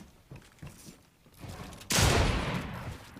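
Gunfire in a battle royale video game: a few faint early pops, then a loud close burst of shots that trails off, with no speech over it.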